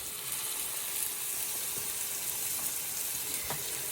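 A buttered grilled cheese sandwich sizzles steadily in a pan, a soft even hiss with a couple of faint clicks, no voices.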